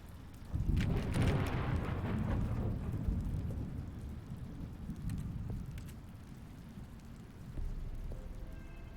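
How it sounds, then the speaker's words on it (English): Rain in a video game, a wash of falling rain with a deep rumbling swell near the start, steady and moderate, then easing with another low surge near the end, no speech. "It's raining."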